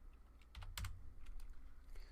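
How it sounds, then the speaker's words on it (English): A password is typed on a computer keyboard in a quiet room, a short burst of soft, close key clicks in an uneven rhythm. "let me go ahead and add my password in here."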